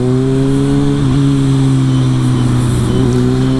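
A Kawasaki Ninja ZX6R motorcycle engine runs loud and close on a test ride, holding a steady, strong droning note with slight pitch dips and rises throughout.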